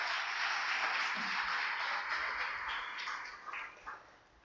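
A church congregation applauds, a steady wash of many hands clapping at moderate distance for several seconds, gradually thinning out toward the end.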